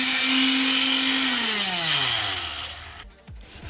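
A power sander with 320-grit paper works over a bare car trunk, giving a loud, steady, close grinding whine that drops in pitch as the tool slows and spins down near the end.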